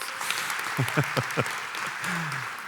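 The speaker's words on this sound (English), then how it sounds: "give him a round of applause" An audience claps to welcome a speaker coming up onstage, a brisk wash of applause with a few short voiced whoops and a sliding call rising over it.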